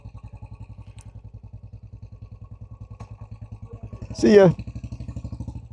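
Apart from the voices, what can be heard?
Royal Enfield Classic 350 motorcycle engine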